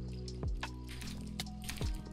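A Minecraft water bucket is used in a Hypixel Duels match, making two quick watery gulping splashes with a falling pitch over a steady game background hum.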